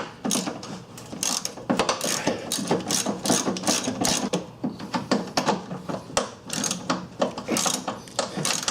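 Ratchet wrench working rusted 15 mm nuts while removing the fuel tank on a Ford Ranger, rapid clicking bursts repeating close and loud throughout without speech.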